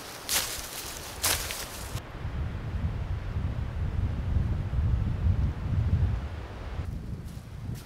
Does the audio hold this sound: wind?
yes